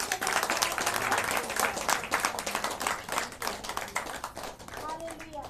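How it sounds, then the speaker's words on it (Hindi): Loud, brisk clapping from a church congregation at a Christian gathering in Varanasi, with sharp overlapping hand claps that ease off near the end as a voice starts to speak. "हम सब तेज से ताली बजाकर"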